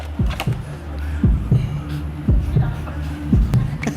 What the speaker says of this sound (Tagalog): Ang lakas ng tibok ng puso mo